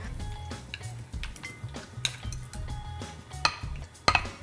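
Cubed salmon fillet, 400 grams, being put into a bowl by hand, with soft wet thuds, scraping and a few sharp clinks of utensils against the bowl, close and fairly quiet.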